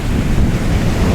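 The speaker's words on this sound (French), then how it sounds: "Ici quand les vagues elles arrivent, les vagues elles arrivent, ça fait vraiment de la mousse." Loud surf crashes and churns on a black sand beach in Iceland, a dense close roar of foaming waves mixed with heavy wind buffeting the microphone.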